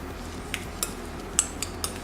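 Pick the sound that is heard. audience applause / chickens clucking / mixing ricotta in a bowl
mixing ricotta in a bowl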